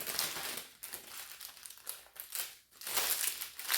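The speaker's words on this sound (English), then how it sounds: "start from the bottom and cut the plastic up" Plastic wrapping around a bouquet of fresh flowers is cut from the bottom up, giving close, uneven bursts of crinkling and rustling with short pauses between them.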